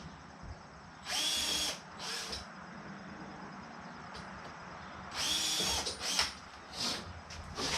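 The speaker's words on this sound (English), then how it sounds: "You're going to hold that and you just drill it." A power drill whirs in several short, close bursts separated by brief pauses, drilling screw holes for front-end trim on a Can-Am Ryker three-wheeler, with a low background hum between them.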